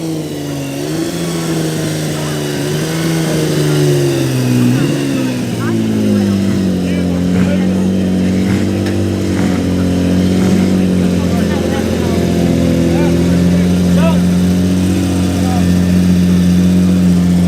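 A loud, vocal 6-cylinder ERA vintage racing car engine holds a steady, droning note close by at a hillclimb meeting, its pitch dipping and settling as it runs continuously for the whole stretch.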